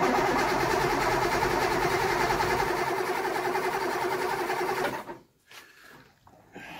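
A 1964 Triumph 2500 barn-find engine, powered from a jump pack, cranks over in a steady, loud, close mechanical drone that stops abruptly near the end, leaving faint clicks and low noise.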